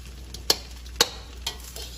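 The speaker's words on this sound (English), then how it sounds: "Keep mixing, keep stirring." Buttery rice frying in a pan is stirred. A soft sizzle runs beneath a few sharp scrapes and clinks from the utensil, spaced roughly half a second apart, with no talking.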